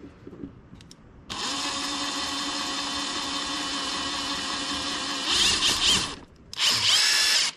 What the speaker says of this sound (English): Drill you a hole in it.